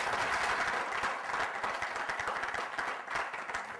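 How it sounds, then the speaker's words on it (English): An audience applauds a panel at an innovation forum, a dense, sustained round of clapping that stays loud and even before tapering slightly. "Please join me in giving them a nice round of applause."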